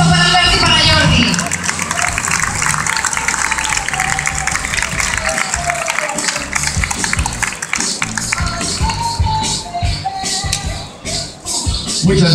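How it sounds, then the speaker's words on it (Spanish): The crowd at the award ceremony for the 51st Rally Rías Baixas gives sustained applause with some cheering, a dense, continuous clapping that slowly thins toward the end amid crowd noise and voices. "Fuerte aplauso para Alberto y para Jordi."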